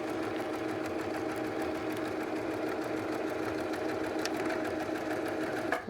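A sewing machine stitches a decorative pillow cover, its needle running in a fast, steady mechanical rhythm, close and continuous with no talk.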